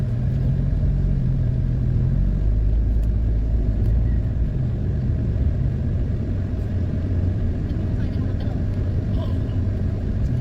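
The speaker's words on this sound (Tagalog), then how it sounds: "May mga sasakyan ng tao dito." Traffic passing on a provincial road, a dense steady rumble of car and tricycle engines that stays loud throughout, with voices faintly mixed into the roadside noise.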